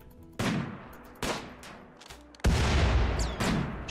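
Gunfire from the video game RimWorld during a raid: several loud, sharp bursts of shots, with a cluster around one second and a heavier sustained volley near the end, no talk.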